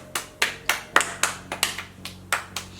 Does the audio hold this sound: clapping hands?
yes